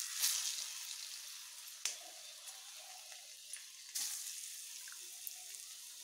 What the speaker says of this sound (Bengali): তেল আমার গরম হয়ে গেছে। এবার আমি এখানে একটি একটি করে এগুলোকে ছাড়ছি।